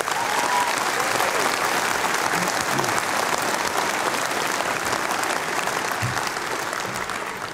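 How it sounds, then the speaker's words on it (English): A big round of applause at a graduation ceremony, many hands clapping in a steady, dense wash that fills the hall evenly and eases off slightly at the end. "How about a big round of applause for them?"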